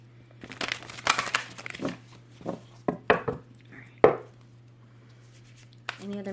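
Tarot cards being shuffled by hand during a reading, a run of crisp riffling and slapping bursts of varying loudness over a steady low hum, close and without talk.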